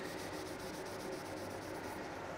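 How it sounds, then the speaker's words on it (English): A softback sanding sponge rubs over flexible plastic repair filler during automotive plastic repair, a quiet, steady, hissing scrub that runs without pause and without talking. "I just want to show you the sanding of this though."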